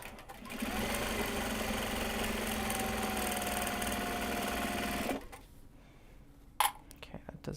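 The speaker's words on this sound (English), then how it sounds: "now I can actually wind the next bobbin as well" A sewing machine runs steadily for about five seconds while winding a bobbin, a loud continuous whir and hum, then stops abruptly, leaving quiet room tone and a brief clunk.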